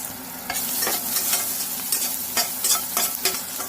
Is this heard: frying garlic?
yes